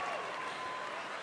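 Steady applause from a pageant audience at the Miss Universe 2022 finale, a dense continuous clapping wash with a faint tonal line running through it, no break across the short stretch.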